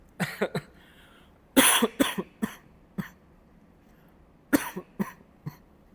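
A person coughs in several clustered bursts, pausing between groups, close and fairly loud in a quiet room.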